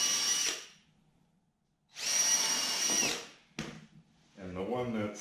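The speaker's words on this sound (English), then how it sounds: "on these long stretchers, again, just putting them about where they go. I'm only putting two screws in here." A power drill drives screws into wooden stretchers of a sawhorse greenhouse frame, two loud whirring bursts close by with a pause between, then a short jolt and a quieter stretch where a voice speaks.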